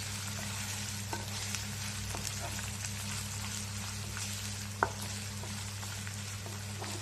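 Paneer frying lightly in a pan for a paneer masala, a steady soft sizzle with a low hum beneath and a few faint clicks and one sharper tap.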